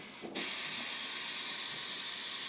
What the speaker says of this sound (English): this is our compressed air